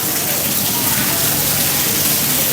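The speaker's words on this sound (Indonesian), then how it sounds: "Hujan di sini guys." Heavy rain pours steadily in a dense, unbroken hiss that stays loud and even throughout, with no distinct drops standing out.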